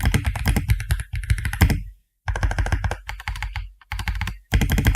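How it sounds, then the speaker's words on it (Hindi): Brisk typing on an Aula F99 wired 99-key mechanical keyboard fitted with pre-lubed linear switches, a dense run of close, creamy thocking keystrokes in bursts separated by short pauses. "यह है औला F99, एक 99 कीज मैकेनिकल कीबोर्ड।"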